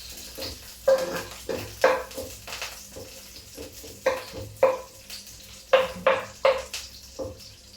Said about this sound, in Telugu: సో ఉల్లిపాయలు మాత్రం వేడుతుంటాయి